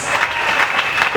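A church congregation applauds together in one steady burst of clapping, brief and fairly loud, with a voice over the applause.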